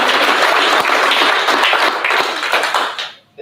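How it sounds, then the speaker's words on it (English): Audience clapping at a leadership summit, a dense steady burst of many hands that fills the room, then thins and cuts off near the end. "I thought you were going to clap hands for that."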